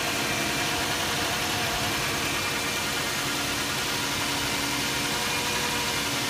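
A 2007 Toyota Sequoia's 4.7 liter V8 idles steadily, a constant mid-pitched engine hum with faint vibration and hiss, close and unbroken throughout, no talking.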